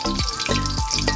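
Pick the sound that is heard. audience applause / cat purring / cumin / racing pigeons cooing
cumin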